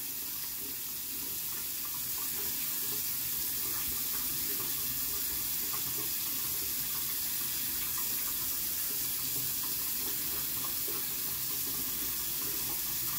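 Tap water runs steadily into a sink to wet a makeup brush during a makeup-removal cleanse, a continuous close hiss and splash lasting throughout with no talking.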